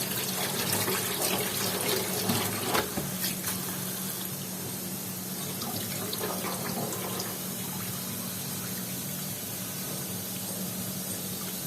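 Cold tap water runs steadily into a sink while food is washed under it, a close, continuous splashing that is louder at first and then settles, with no talk.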